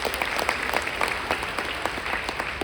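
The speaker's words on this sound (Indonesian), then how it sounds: "Tepuk tangan untuk kita semua Bapak Ibu." An audience at a seminar claps in a brisk, even burst of applause that fills the room at steady loudness.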